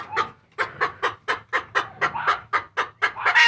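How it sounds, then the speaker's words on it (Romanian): Several hens cluck in a steady run of about a dozen short, close calls, loud and alone, in an evening farmyard with backyard poultry. "acolo sunt mai două puici"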